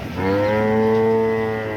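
A single long, loud cow moo rises and holds close by at a cattle market, a deep drawn-out bellow lasting nearly two seconds.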